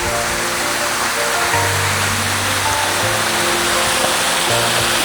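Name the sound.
water flowing under a bridge on a nature trail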